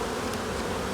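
Very dark honeybees swarm over brood frames at a hive, producing a loud, close, unbroken buzz for the whole brief moment.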